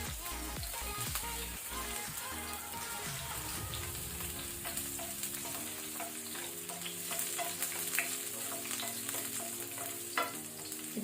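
Chopped garlic frying in hot oil in a pan over a high flame, a steady close sizzle with stirring clatter at the start, continuing without talk.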